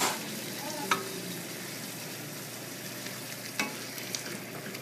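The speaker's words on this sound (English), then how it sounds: "you want to add the stock, stir it" Shiitake mushroom and butternut squash risotto is stirred with stock in a pan, a soft steady simmering sizzle with a few sharp spoon scrapes and taps, fairly quiet and close.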